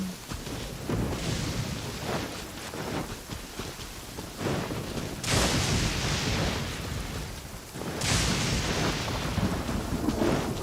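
Thunder rolls and crashes over steady rain in the Genshin Impact video game, with two loud bursts of thunder rising out of a continuous rainy wash that lasts for about ten seconds.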